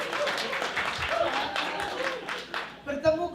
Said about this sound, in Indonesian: bolehkah saudara memberikan tepuk tangan yang paling meriah?